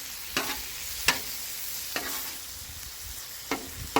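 80/20 ground beef, with onions, sizzles steadily on a Blackstone griddle while a metal spatula scrapes and chops through it in five or six sharp, evenly spaced strokes.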